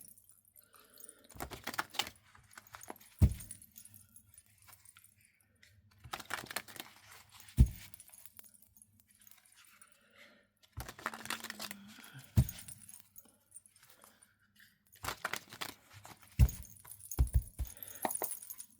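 Tarot cards are shuffled and drawn by hand, giving several separate bursts of papery riffling and slapping, close and fairly quiet, with near-silent pauses between them.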